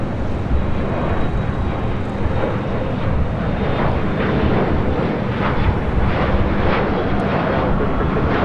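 A Boeing 777-300ER jet airliner in Boeing livery roars steadily at LAX at night, a dense, loud engine rush with rumbling texture that holds throughout without speech.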